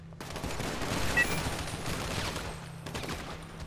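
A rapid burst of gunfire in GTA 5 roleplay, several shots cracking in quick succession over a steady game background, loud and close with no talk over it.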